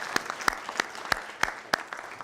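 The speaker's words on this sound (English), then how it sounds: "give yourselves a hand" A keynote address audience breaks into brief applause, sharp individual claps rising and falling in a loose rhythm for a couple of seconds, close and fairly loud.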